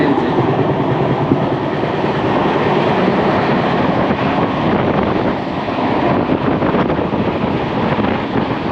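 A long-distance passenger train running on the rails in India, a loud continuous rumble and roar with faint clickety-clack and wind buffeting, steady throughout with no talking.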